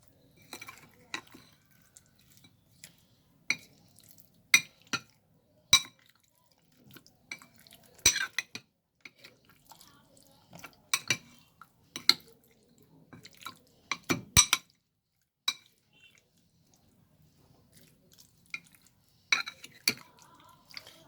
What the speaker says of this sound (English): Add the corn flour and mix it nicely.